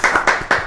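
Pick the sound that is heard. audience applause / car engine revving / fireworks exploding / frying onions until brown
audience applause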